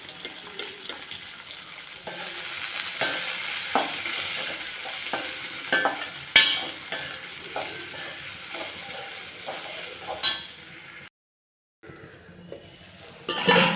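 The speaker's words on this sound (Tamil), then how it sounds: "ஒரு 10 சின்ன வெங்காயம், ஒரு பச்சை மிளகா குட்டியாக கட் பண்ணினது, இதையும் போட்டு நல்லா வதக்கி வைப்பேன்." Shallots and chopped green chili sautéing in a pan for a Tamil-style crab fry, with a steady close sizzle, stirring scrapes and spoon clinks throughout, a brief silent gap near the end.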